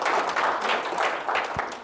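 A lecture audience gives a round of applause, with dense, even clapping from many hands that continues without a break.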